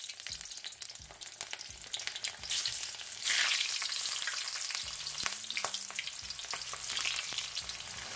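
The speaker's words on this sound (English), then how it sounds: "So now I'm just gonna start off by adding some scotch bonnet pepper." Scotch bonnet pepper fries in hot oil in a pan ahead of snapper for Jamaican escovitch fish, giving a dense, steady crackling sizzle throughout with occasional stirring sounds.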